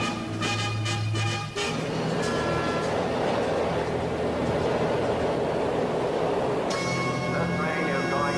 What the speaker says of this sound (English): This train is going out of service.